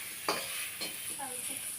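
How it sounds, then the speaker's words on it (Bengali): Fish fries in oil in a wok, a steady close sizzle with a few brief stirring scrapes and crackles across a short stretch. "মাছটাকে ভাজা হোক"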